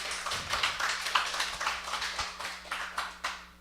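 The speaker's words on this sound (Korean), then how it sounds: "아, 우리 박수 좀 해줘요" A church congregation clapping during a sermon, a sparse, fairly quiet patter of separate hand claps in an uneven rhythm with a low steady hum beneath.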